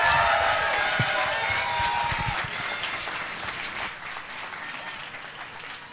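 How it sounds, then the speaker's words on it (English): An audience claps for first grade boys at a school celebration, a dense burst of applause that gradually thins and fades over several seconds, with faint crowd murmur beneath. "let's just hear another round of applause for our amazing first grade boys"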